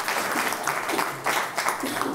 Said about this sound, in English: could you go up on stage with an applause?